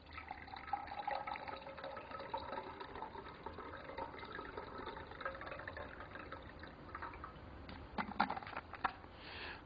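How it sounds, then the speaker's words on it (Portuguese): Cold water pours from a thermos into a glass, a steady close trickle and splash running throughout, with a few brighter sputters near the end. "E pegamos a água gelada e colocamos no outro copo."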